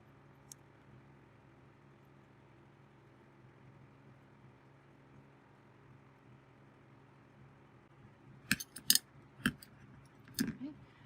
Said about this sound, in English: carefully cut away the stabilizer